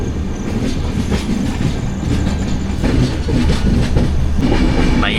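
A passenger train on a long-distance run from Tenali to Haridwar rolls steadily along the rails with continuous rumble and rhythmic clickety-clack of wheels over joints, close and loud throughout, with no talking.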